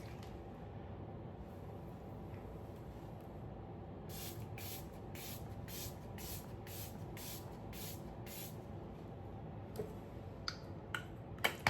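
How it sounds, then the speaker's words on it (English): Setting spray mists onto a face as a quick run of about a dozen light spritzes in a quiet room, with a few soft clicks from the bottle after them. "This is the Mask Fit Makeup Fixer. This is supposed to make everything last all day."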